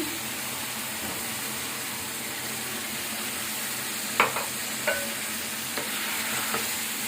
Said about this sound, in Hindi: दही डाल के इसको हिलाएंगे, थोड़ी देर भूनेंगे